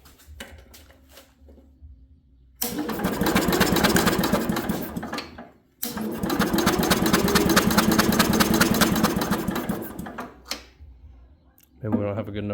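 An Allis Chalmers garden tractor engine with a weak spark connection cranks over in two long bursts of rapid rhythmic churning, separated by pauses with quieter sounds and brief talk near the end.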